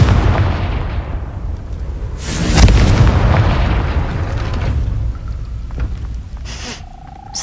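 A Confringo fire spell explodes in the Hogwarts Legacy video game, a loud burst followed by a rumbling blast that decays into a long, roaring tail, with a brief sharp crackle near the end.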